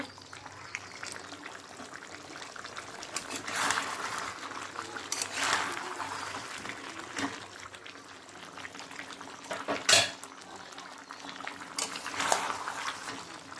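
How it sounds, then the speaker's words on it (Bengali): Chicken pieces cooking slowly under a lid in a pan, a steady soft bubbling simmer with a few louder clinks and spikes over the quiet hiss. "আমি কিন্তু আস্তে আস্তে জালে ঢেকে কষাবো মাংসটা।"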